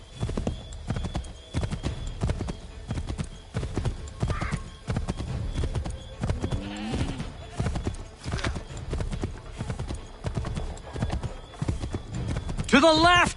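Horse hooves clop in a steady galloping rhythm as a rider travels in Assassin's Creed 3, while characters talk over the hoofbeats and a horse whinnies briefly near the end.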